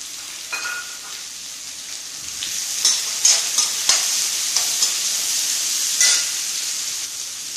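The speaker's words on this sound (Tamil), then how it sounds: "இப்போ இது கூடவே 1 மீடியம் சைஸ் வெங்காயம் ஆட் பண்ணிக்கலாம்." Onion and green chillies sauté in a hot pan for millet semiya upma, a steady bright sizzle with a few sharper stirring scrapes and crackles scattered through, close and with no talk.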